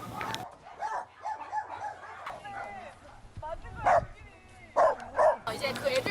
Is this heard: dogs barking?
yes